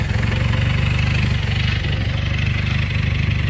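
A 1964 Velocette LE Mk3 200cc motorcycle engine idles close by, a loud, steady, even low chugging pulse that holds without pause.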